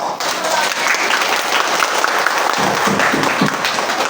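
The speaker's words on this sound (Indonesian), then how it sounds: "Beri tepuk tangan." Audience at a scout gathering applauding children, a sustained burst of loud, dense clapping that holds steady throughout with a faint voice underneath.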